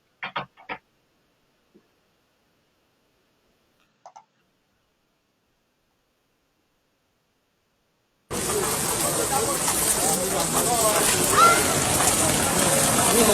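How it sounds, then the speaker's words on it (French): Steady rain comes in abruptly as a dense, continuous hiss of falling water. It is loud and close, after a few brief faint sounds in near silence. "Les gars sont dans la pluie."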